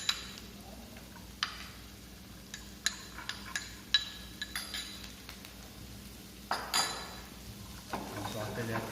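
Carrot cubes being sautéed in a pan for chicken fricassee, with soft, scattered clinks and taps of a utensil against the pan over a quiet background.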